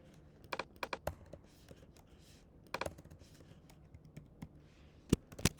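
Keys tapped on a computer keyboard while entering data into an Excel spreadsheet, short clusters of crisp close clicks separated by pauses, with no talking.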